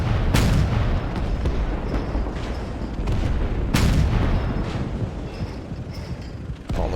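Heavy KV-2 artillery shots in the Gates of Hell video game, two big booming blasts a few seconds apart over a constant rumbling battlefield backdrop with distant thuds.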